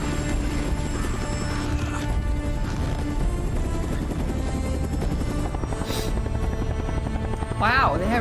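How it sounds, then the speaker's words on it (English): A red helicopter flying in a video game, a loud continuous rotor drone filling the clip, joined by short game effects and a rising whine near the end. "Wow, they have red helicopters?"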